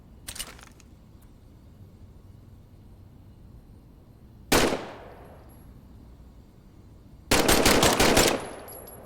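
A weapon is test-fired in the Medal of Honor video game: a brief early burst, a single loud shot with a ringing tail, then a longer rapid machine-gun burst near the end, each loud and close with quiet gaps between.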